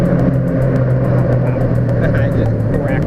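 A Ford Mustang's engine roars loudly and steadily from inside the car, its exhaust crackling with a rapid run of sharp pops over the continuous engine drone.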